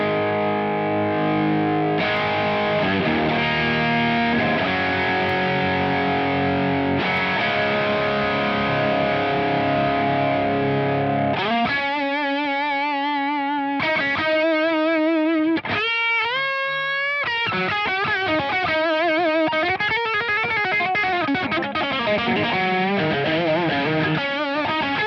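Electric guitar through the right-hand channel of a VS Audio Royal Flush dual overdrive pedal, heavily saturated with long sustained notes, first chords and then bending, wavering lead lines, played alone without talk.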